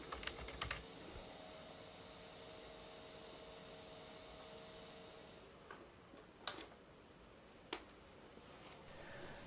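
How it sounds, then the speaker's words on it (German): Keystrokes on a retro 486 PC keyboard: a few sparse, crisp clicks, with a quick burst at the start and isolated presses later, over a faint steady electronic hum. "Wie ihr sehen könnt, werden zwar alle Tastendrücke korrekt registriert"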